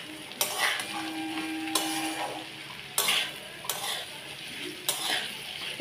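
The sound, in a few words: frying okra and potatoes with green chillies, stirring in pan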